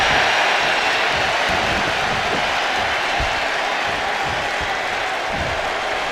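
An arena crowd in the WWE 2K25 wrestling game roars in a dense, loud, unbroken wall of cheering and applause.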